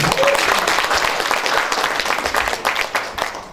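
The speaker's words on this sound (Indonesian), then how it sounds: "Kita tepuk tangan buat Bapak Murlin." A crowd applauds Bapak Murlin at an installation ceremony for the HIMNI Bengkulu organization. The clapping is loud and dense at first, then thins into scattered, uneven claps toward the end.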